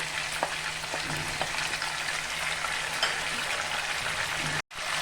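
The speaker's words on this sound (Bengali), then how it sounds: "চিকেনটা আমার হালকা করে ভাজা হয়ে গেছে, এখন আমি মশলাগুলো দিব। আদা, রসুন, কাঁচা লঙ্কার পেস্টটা দিয়ে দিব।" Chicken pieces frying in a pan with ginger, garlic and green chili paste give a steady, close sizzle with soft crackles, briefly cut by a moment of silence near the end.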